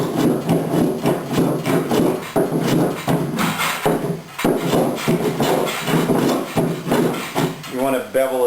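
An old Stanley hand plane shaves a wooden seam fillet in repeated rhythmic rasping strokes, close and fairly loud, each pass a short scraping rub followed by a brief pause, with a voice heard near the end.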